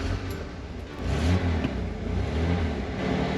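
A 1987 Ford F-150 fires up and revs, its engine roaring steadily and close by for several seconds, with the revs swelling after the first second.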